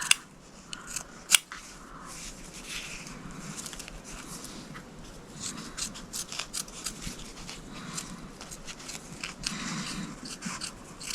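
Scissors trimming around a finished cross-stitched piece, a series of quiet close snips and crisp cuts, with one sharper snap near the start.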